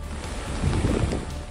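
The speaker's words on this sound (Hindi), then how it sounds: "पानी का तांडव ऐसा कि इस बहाव के इर्द गिर्द आना भी खतरे से खाली नहीं था" Swollen river floodwater after heavy rain rushes in a loud, continuous roar, with a churning low-frequency surge close by and no voices.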